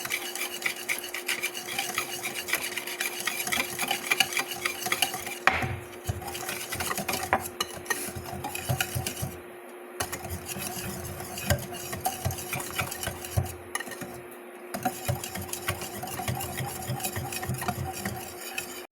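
Batter of flour and egg is stirred in a bowl, with a steady scraping, swishing rhythm and occasional utensil knocks against the side, close and continuous.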